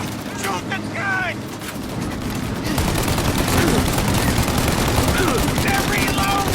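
Dense, rapid gunfire from a shootout in Mafia: Definitive Edition, a 1930s gangster game: overlapping bursts roll on without pause, with brief shouted voices cutting through near the start and end.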